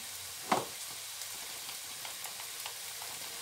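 Keema frying with salt in a pan for a spaghetti keema sauce gives a faint, steady sizzle, with one soft clack near the start.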